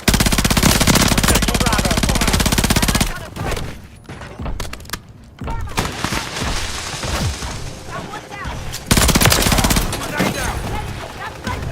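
Rapid machine-gun bursts in a video game firefight, loud and sustained, broken by a short lull before fire resumes, with shouted squad voices over the shooting.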